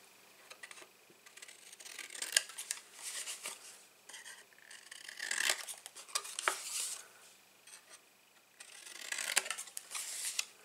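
Small pieces for a reinforced box with lid are trimmed by hand, heard as three separate bursts of crisp, close cutting and scraping with quiet pauses between them.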